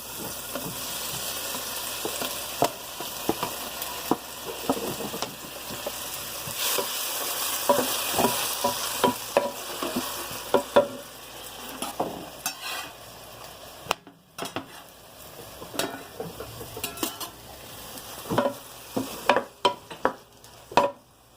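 Tomatoes frying with onions in a pan for sarson da saag, a steady sizzle punctuated by frequent spatula scrapes and metallic knocks against the pan, close and moderately loud throughout.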